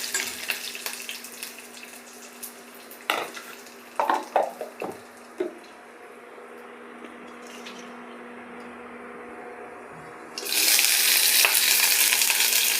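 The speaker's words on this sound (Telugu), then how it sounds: "అందుకని ఇదిగోండి తాలింపు వేసుకున్నాం" A tempering of spices with cinnamon powder frying in oil crackles with a cluster of close pops, then erupts into a loud, continuous sizzle for the last couple of seconds.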